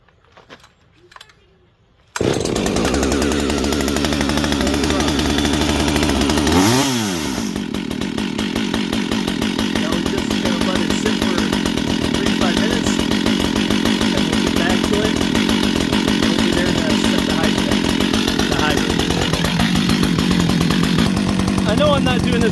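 A new chainsaw is pull-started after a few quiet pulls, then roars into a loud, steady idle close by, briefly revving partway through and running continuously to the end.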